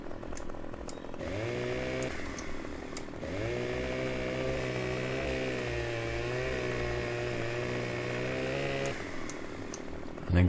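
A chainsaw felling a tree in Farming Simulator 2015 revs up and runs in a steady loud whine for several seconds, pausing briefly, then resumes before cutting off.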